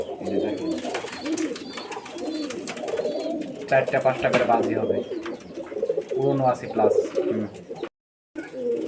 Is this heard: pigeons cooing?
yes